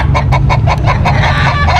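A fighting-breed chicken clucks close by at an animal market in Lingayen, Pangasinan, in a quick, even series of short pulses over a low background rumble.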